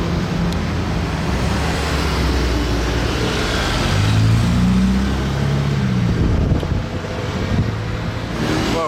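A Porsche 992 GT3 RS arrives on a street in Monaco, its engine growl rising and passing close amid heavy wind rumble and surrounding traffic noise, with no speech.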